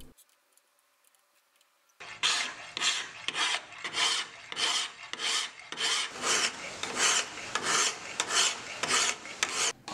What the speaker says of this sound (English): A quick flip to the other side, followed by another hour plus of hand grinding.